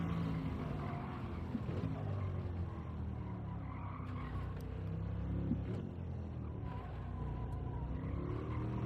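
A car in Gran Turismo 7 oversteers and slides. Its engine drones steadily, with rising and falling tones, while tires scrub and squeal intermittently through a continuous, fairly close mix.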